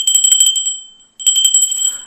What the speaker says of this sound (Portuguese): E ao se inscrever, acione o sininho.